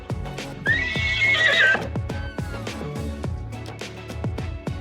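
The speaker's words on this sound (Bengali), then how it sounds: "ঘোড়া অনেক দ্রুত দৌড়ায়।" A horse whinnies loudly for about a second with a rising, wavering neigh, while rapid clip-clop hoofbeats run steadily through the whole stretch without any talk.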